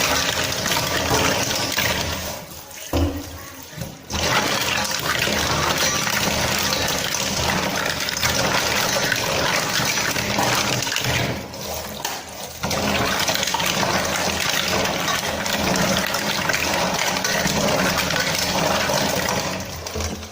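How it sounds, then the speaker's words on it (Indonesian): Green mussels rinsed under running water, a steady loud rush with water churning over the shells, briefly cut off twice before the flow resumes. "Bilas dengan air beberapa kali sampai nanti airnya ini tidak keruh lagi atau sudah bersih ya guys."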